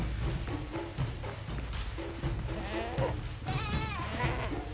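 Goats in the pirate video game Windrose bleat several times, wavering cries rising over steady background game sound.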